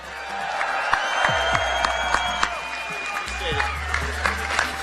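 A large outdoor crowd at a Seattle Sounders championship parade cheers and claps, a dense, continuous roar with scattered whoops and sharp claps, heard from within the crowd.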